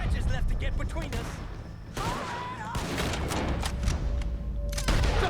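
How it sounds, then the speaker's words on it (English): Gunfire in Red Dead Redemption 2 cracks out in scattered bursts during a shootout, loud and close, with voices shouting over the shots. "Stop shooting at me."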